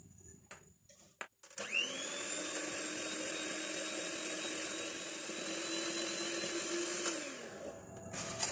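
An electric mixer whirs steadily for several seconds as it beats a cornflour and sugar frosting, starting up after a few clatters and spinning down near the end.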